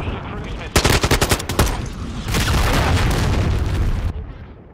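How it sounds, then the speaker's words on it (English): Explosive booms and rapid gunfire from a cruise missile strike in Modern Warfare 2 burst in loud and close, a fast rattling volley followed by a sustained roaring blast that fades abruptly. "Hostiles launched a cruise missile."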